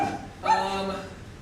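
A voice imitating a dog's bark during a live improv comedy stage show, a short single yelping woof that rises sharply and trails off.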